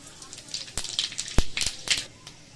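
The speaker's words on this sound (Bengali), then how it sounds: "এই বাদাম ভাজার তেলের মধ্যেই আমি দিয়ে দিচ্ছি 5 ফোড়ন।" Five-spice seeds (panch phoron) dropped into hot peanut-frying oil give a brief burst of sharp, close crackles and pops over a couple of seconds.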